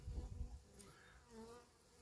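Honey bees buzz around the queen's cage inside a hive where a new colony is being installed, a faint, close, wavering drone with a few louder passes by individual bees.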